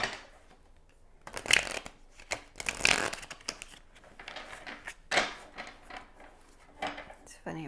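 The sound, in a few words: shuffling tarot cards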